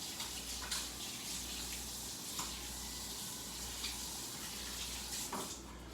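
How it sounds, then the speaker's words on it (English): Hands rinsed under a running kitchen tap after mixing vegan meatball mixture, a steady close hiss of flowing water with a few brief splashy bursts, no talking. "let me go ahead and rinse my hands off."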